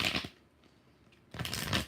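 Tarot cards are shuffled in two quick papery riffling bursts at the start and end, separated by a brief near-silent pause, close and crisp.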